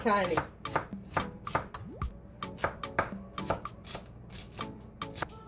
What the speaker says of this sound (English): I'm just going to go down and cut this real fine, guys.